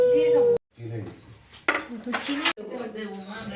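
Metal spoons clink against round bowls as grandma serves ramen at home. A few short, bright clinks are scattered between voices speaking close by.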